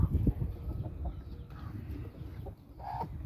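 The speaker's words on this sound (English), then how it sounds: "a few duds that I got in the game chicken" Game hens on a farm in spring cluck softly and intermittently nearby, short low clucks with a few brief higher calls over quiet barnyard background.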